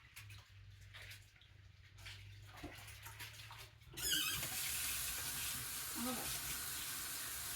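A canning ladle is rinsed under a running tap, with a quiet stretch and handling first, then a sudden steady rush of water and faint clinks of metal in the sink.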